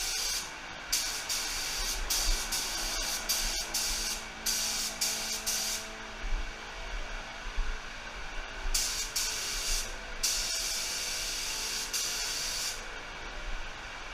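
A spray gun lays base color onto a 1937 Pontiac in repeated hissing bursts of a few seconds each, separated by brief pauses, with steady background noise throughout and no talking.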